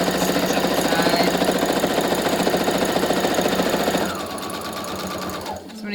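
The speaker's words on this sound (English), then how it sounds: "Go ahead and stitch up the side." Up close, a sewing machine stitches up the side of a fabric face mask with a fast, loud, rattling drive. It slows and eases toward the end and then stops, and faint talk may sit underneath.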